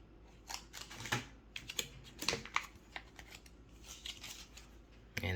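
Air-sealed plastic bag of HyperX Pudding keycaps being torn open, giving sharp crinkling rips and rustling bursts at close range, repeated and irregular.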